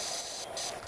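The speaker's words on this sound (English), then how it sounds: "Because that'll give us a bit of a wider spray." Wide water spray hisses from a green garden hose nozzle, a brief steady spray that dips and swells slightly, close to the microphone with no talking.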